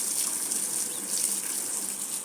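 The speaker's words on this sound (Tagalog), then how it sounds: "Diligan natin guys" Water gushing steadily from a hose or tap onto potted plants in a garden, a continuous close hiss and splash with no talking.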